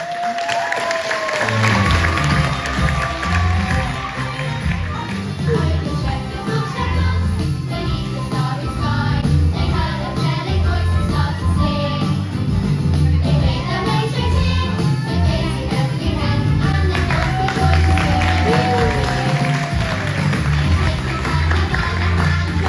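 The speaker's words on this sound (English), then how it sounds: "please put your hands together for the cast of Light. Camel Action 2, the Sequin" An audience gives sustained, loud applause for the cast of a Christmas-themed show, with the clapping continuing over background music and occasional cheers throughout.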